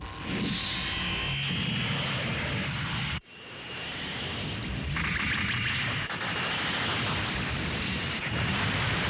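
Loud, continuous booming blasts with a roaring, rumbling wash, briefly cutting out before surging back like heavy cannon fire, from a spaceship's Macross cannon in the anime Macross 7.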